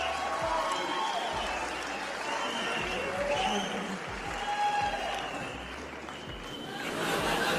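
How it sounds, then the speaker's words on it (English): Large crowd at a live event cheering and applauding in a dense, continuous roar, with scattered shouts and some voices mixed into the steady wash of noise. "Look at this crowd."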